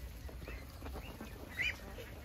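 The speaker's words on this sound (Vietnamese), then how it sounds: "Là nhiều vịt." Faint quacking from farm ducks, a few brief calls over steady background noise, with one slightly louder quack near the end.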